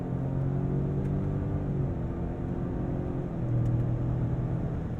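A 2021 Lincoln Navigator Black Label accelerates hard in manual fourth gear, a steady loud low engine drone with rising harmonics and a brief dip as it shifts, heard from inside the cabin.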